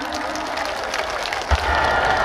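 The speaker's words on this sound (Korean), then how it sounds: "박수 많이 주세요." Audience clapping at an outdoor commemorative concert, a continuous crowd applause heard alone with a brief bump partway through.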